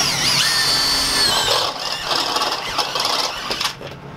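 A power drill bores a roughly half-inch hole into the sheet-metal body of a Sprinter van, a loud close-up whine that shifts in pitch as the bit bites, then fades near the end.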